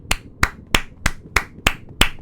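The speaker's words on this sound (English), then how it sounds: "here's me clapping right now" Seven sharp, evenly spaced hand claps about a third of a second apart, each crisp and close, with a quiet gap between them.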